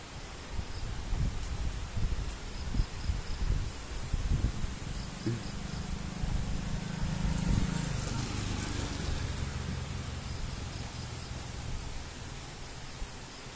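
Strong wind blows steadily across a hilltop house during a storm, a broad rushing roar with gusty swells, loudest around the middle, alongside faint insect-like hiss and some low thumps.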